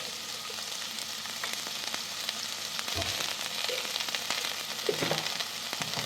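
Chicken seasoned with salt and turmeric fries in a pan for jeeraka chicken, a steady close sizzle broken by a few soft stirring scrapes, with no voices.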